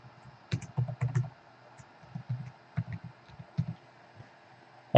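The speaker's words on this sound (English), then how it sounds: "So I'll type in something here, and then type it in again." Password being typed on a computer keyboard: irregular bursts of soft close key clicks with short pauses between groups, fairly quiet in a calm room.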